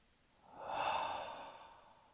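A deep breath out during guided relaxation, one slow, soft exhalation that swells and then fades over about a second and a half, close and alone.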